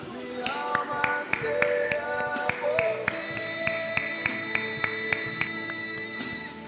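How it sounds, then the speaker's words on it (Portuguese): A congregation at an evangelical church service claps in a steady, rhythmic beat. Sharp, evenly spaced claps ring out over singing or musical tones. "Vamos aplaudir ao Senhor em nome de Jesus."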